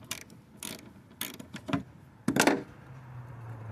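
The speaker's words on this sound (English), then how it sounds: "I'm going to remove the two 10mm nuts holding in the coolant overflow tank" A ratchet spins off the 10mm nuts holding the coolant overflow tank on a 2005 Buick Century with the GM 3100 V6, giving several quick, close bursts of clicking with a louder rattle near the end and no voices.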